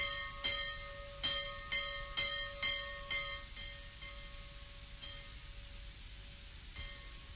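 A monastery church bell calls monks to Vespers at sunset, with about half a dozen evenly spaced strikes whose ringing tone lingers, then a few sparser strokes over a steady hiss.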